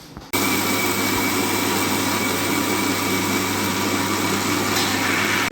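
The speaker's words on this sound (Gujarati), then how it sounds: "અત્યારે આપણે મિક્સરમાં ક્રશ કરી નાખી" An electric mixer grinder crushes soaked rice, urad dal and fenugreek into uttapam batter. It starts abruptly, then runs with a loud, steady whirring drone and stops at the end.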